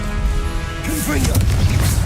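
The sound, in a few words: Confringo explosive spell cast in video game Hogwarts Legacy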